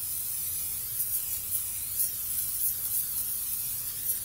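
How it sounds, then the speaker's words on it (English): Butter-flavored cooking spray misted into an eight-inch Dutch oven, a soft steady aerosol hiss with faint pulses, close and fairly quiet, no talking. "So what I'm going to do is I'm going to spray it down real good."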